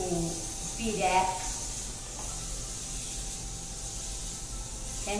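Cooking spray hisses briefly onto a Pyrex dish during kitchen prep, a short spray burst near the start that then fades into steady background noise.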